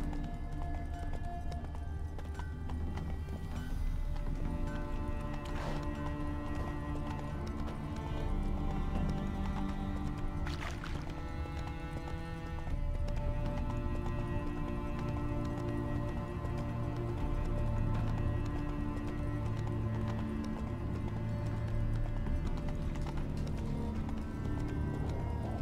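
Horse hooves gallop in The Witcher 3, a steady rapid clip-clop running all the way through under a dense game soundtrack, with a brief whinny-like cue and no voices.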